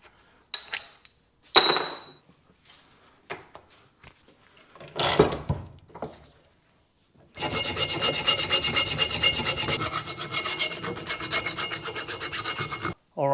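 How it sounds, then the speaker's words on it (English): A BMW E46 differential mating surface is scrubbed clean, scattered scrapes and rubs at first, then a long stretch of rapid, steady back-and-forth scrubbing, close and fairly loud. "I need to clean this surface here"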